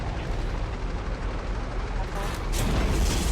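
A tank cannon fires in the Roblox game War Tycoon, a loud booming blast near the end over dense, noisy battle rumble, with voices talking over the action.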